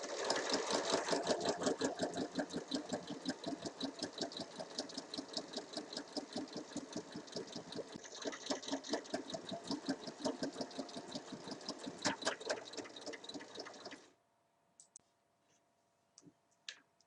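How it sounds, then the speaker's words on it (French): A sewing machine runs steadily for about fourteen seconds, stitching a side seam on a summer dress with a fast, even mechanical clatter, then stops, leaving a few faint clicks and near silence. "Il faut commencer à piquer dans une couture de côté."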